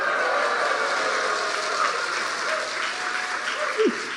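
Loud church congregation cheering and applauding during an autumn revival service, a dense continuous roar of claps and voices filling the sanctuary throughout.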